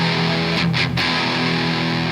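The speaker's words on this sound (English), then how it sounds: "In a guitar, you need power chords sometimes" Electric guitar holding a heavily distorted power chord, a sustained, dense, buzzing tone that rings steadily at even loudness for about two seconds with no other sounds.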